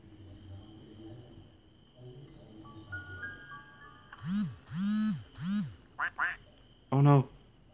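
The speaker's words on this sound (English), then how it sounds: "Oh no, it's the duck attack." A cartoonish duck in the horror video game Granny quacks loudly several times in quick succession over a quiet hum, followed by a couple of sharper squawks.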